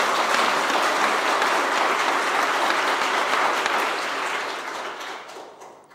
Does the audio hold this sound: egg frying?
no